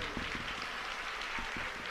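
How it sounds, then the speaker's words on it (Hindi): Audience applause at a Hindi-Urdu poetry recital, a steady wash of clapping with a few sharper claps standing out, fairly quiet and continuous throughout. "मैं चाहता हूं बच्चों के नाम आपकी एक बार तालियां उनके समर्थन में बजे"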